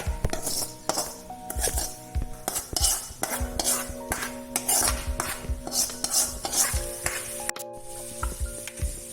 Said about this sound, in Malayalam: ഈ വറുത്ത ഉള്ളി ഇതിൻ്റെ അകത്തേക്ക് ഇട്ടിട്ട് മിക്സ് ആക്കുക